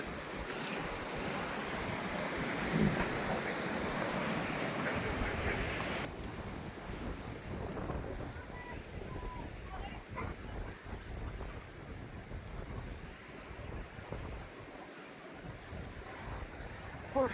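Ocean waves rolling into a small cove at Porthleven, a continuous surf wash with gusty wind buffeting the microphone, the roar easing into softer lapping and fizzing water.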